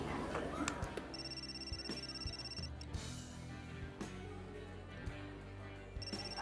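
A mobile phone rings with a repeating electronic tone amid a busy, noisy room, with chatter and other sounds underneath.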